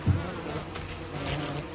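A wasp buzzes steadily at close range in the video game Don't Starve Together, a sustained insect drone with no talk.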